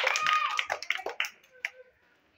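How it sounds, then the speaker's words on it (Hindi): Children in a village learning-centre class clap for a classmate, a short burst of scattered, uneven hand claps mixed with excited young voices, fading out after about two seconds. "सृष्टि के लिए तालियां बजाइए जोर से"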